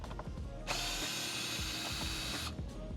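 A power tool whirs steadily for about two seconds, loosening the airbox screws on a Porsche Macan, with light clicks and handling noise before and after.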